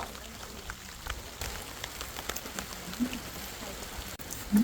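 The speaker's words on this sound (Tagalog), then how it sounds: "hindi pa rin niya tumitila ang ulan" Steady rain patters on surfaces on Mt. Tundalara, the highest mountain in Coron, a soft continuous hiss of drops with a few louder close taps, fairly faint and with no talk over it.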